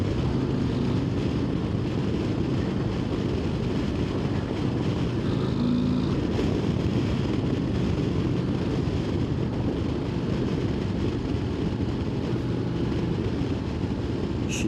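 A 2025 Harley-Davidson CVO Road Glide ST idles or rides with a constant, dense low engine rumble. The sound stays steady and loud throughout, with no speech.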